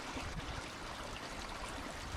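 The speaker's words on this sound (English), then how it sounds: "You can hear the babbling of this beautiful stream." A babbling stream dropping into a small waterfall at a hidden quarry site, a soft, steady trickling wash heard close but faint, with no voices.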